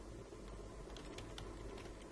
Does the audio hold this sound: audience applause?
no